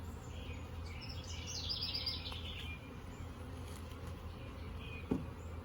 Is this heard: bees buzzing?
yes